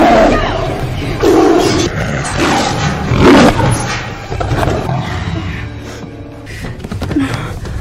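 A tiger roar sound effect rumbles loud and close, rising and falling in long, growling waves, with gasping and crowd-like noise mixed beneath it.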